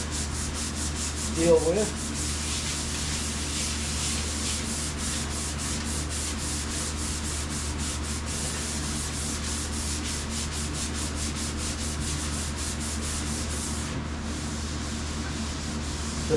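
Hand sanding a painted surface by hand, a continuous rhythmic rubbing scratch close up with a brief bump early on; a voice speaks briefly.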